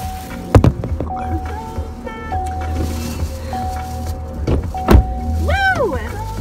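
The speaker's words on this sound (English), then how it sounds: "The door's going to shut." A car door swings shut with a solid thunk, followed by another knock a few seconds later, with people talking close by throughout.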